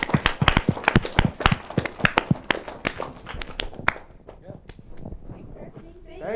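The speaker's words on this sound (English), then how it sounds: "We'll give them a panel a round of applause" Scattered claps from a small audience thanking a panel at a computer science education event, sharp and uneven for a few seconds, then thinning out into light taps and murmuring.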